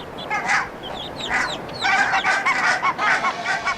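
Barnacle geese with freshly hatched goslings call in a lively cluster, with short overlapping honks and high peeping chirps close by and no voices.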